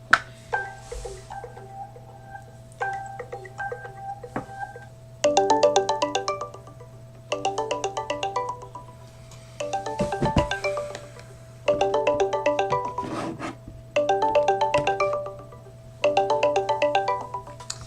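A phone rings on and on with no one picking up, repeated bursts of electronic trilling tones separated by short pauses, fairly close and clear over a steady low background hum.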